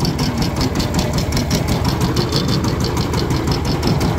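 Power tiller engine chugging steadily at close range in a village setting, a continuous throbbing idle with rhythmic pulses and no speech.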